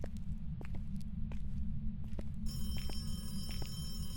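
Telephone ringing in the horror video game Phasmophobia, a steady electronic ring with sustained tonal lines over a constant low rumble of background noise, becoming clear partway through.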